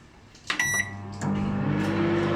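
A Kenwood 40-litre combination microwave oven beeps, then starts running with a steady, moderate electrical hum and fan drone that continues close by.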